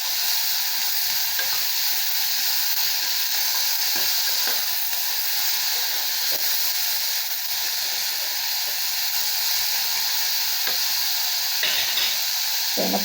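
Dal frying in a pan with chillies, tomato, garlic and ginger, a steady close sizzle and hiss running evenly throughout with occasional faint stirring clicks.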